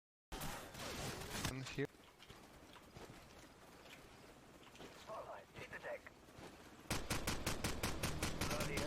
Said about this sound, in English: So I'm shooting at the heli because I want to trigger this sequence as fast as possible.